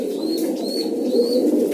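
Pigeons kept on a rooftop coo in a continuous low, throaty murmur, close and steady, with a few faint higher chirps above.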